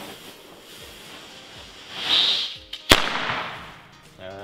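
A Nico Meteorschlag firecracker from a ten-pack box hisses briefly, then bursts in one sharp, very loud bang close by, trailing a short rumbling echo.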